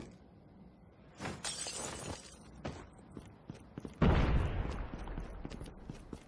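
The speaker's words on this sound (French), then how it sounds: "Il y a une grenade qui est explosée." A grenade explodes in a Call of Duty battle royale match, a sudden loud blast with shattering debris after earlier cracks and clatter, close and dominant.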